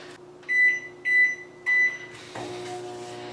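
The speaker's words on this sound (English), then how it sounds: "we're going to pop this in the microwave real quick" Three loud, evenly spaced beeps ring out from a microwave oven used to melt butter for a cheesecake crust, followed by a steady hum and a clunk as the door opens.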